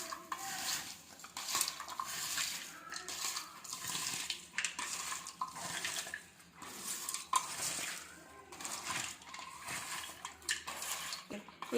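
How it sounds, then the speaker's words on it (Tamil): Chopped banana stem mixed with salt for poriyal is stirred in a bowl with a spoon, giving continuous close scraping and clinking with a wet rustle and no talking. "உப்பு போட்டு இதை நல்லா கிளறி வச்சுருவோம்."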